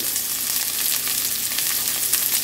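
Onion and dried red chillies sautéing in a pan, giving a steady, even sizzle of hot oil with faint stirring, close and constant and free of talk.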